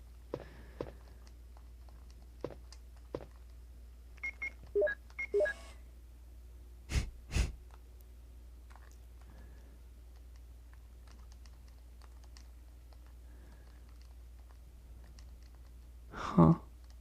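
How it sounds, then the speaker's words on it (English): Keyboard and mouse clicks while playing Resident Evil 1 on PS1, heard as sparse, faint taps and a few louder bursts of clicking spread across a quiet stretch. "I don't know if you can hear me clicking constantly."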